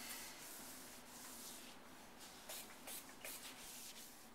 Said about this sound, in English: Now we finished buffing off number 4 with the microfiber towel.